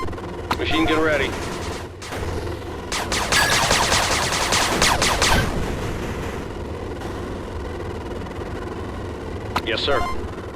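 Machine gun fire from units in the real-time strategy game 8-Bit Armies, heard as loud sustained bursts of rapid shots, with a dense stretch in the middle and sharper bursts near the start and end.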